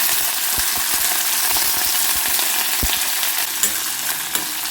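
Chana dal, urad dal, cumin, mustard seeds, green chillies and chopped onion fry together in hot oil, a loud continuous sizzle with sharp low thumps and scrapes of stirring throughout.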